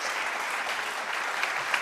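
Audience applause at a Manitoba provincial election debate on poverty, hunger and homelessness, a dense, even burst of many hands clapping that fills the room for a couple of seconds.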